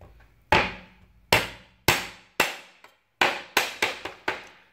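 Small kitchen hammer pounding ingredients for a fish dish, nine sharp, close thwacks on a board, spaced irregularly at first then coming faster in a quick cluster, each with a brief decay and no talk.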